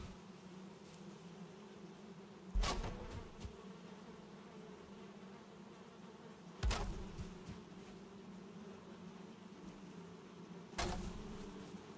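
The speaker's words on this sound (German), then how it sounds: "können ja mal auch gleichzeitig nochmal hier die Bienenstöcke da hinten auffüllen" Bees buzz in a steady, low drone around beehives in the video game Valheim, with three sharp clicks or thumps breaking in at intervals; no one speaks.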